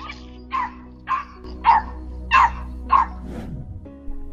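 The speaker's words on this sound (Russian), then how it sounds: "собака бросилась защищать хозяйку от хищника" A small dog defending its owner from a coyote barks six times in sharp, evenly spaced yaps, fairly close, over a low steady background hum.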